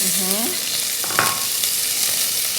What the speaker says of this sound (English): And then we're going to add onions